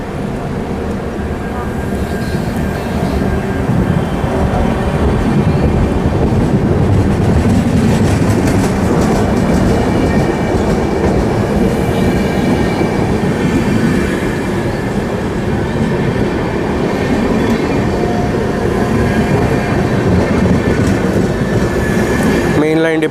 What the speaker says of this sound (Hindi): डिपार्चर हो चुका है इस ट्रेन का अकलतरा से।